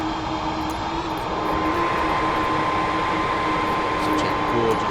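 A FedEx MD-11F freighter's jet engines idling on the ramp in Microsoft Flight Simulator 2024, a steady whining hum with a constant tonal drone and airy roar, unchanging throughout with no talk.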